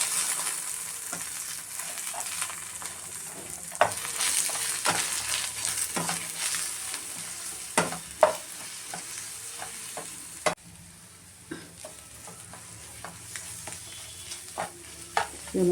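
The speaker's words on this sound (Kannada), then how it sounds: "ಇವಾಗ ಇದನ್ನ ಮೊಟ್ಟೆನ ಚೆನ್ನಾಗಿ ಫ್ರೈ ಮಾಡ್ತೀನಿ." Egg frying in a pan with green chilli and coriander, a steady close sizzle broken by frequent clicks and scrapes of a spatula stirring, quieter toward the end.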